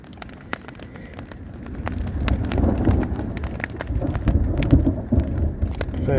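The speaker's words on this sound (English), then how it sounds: "And it's raining. We got thunder and we got lightning." Steady rain patters with sharp drips and taps, while low rumbling thunder swells and rolls through the middle, moderately loud and close.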